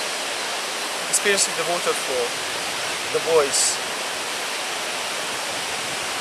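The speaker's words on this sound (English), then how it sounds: "just experiencing the waterfall" Steady waterfall roar fills the whole stretch as an even broadband rush, with a voice speaking briefly over it near the middle.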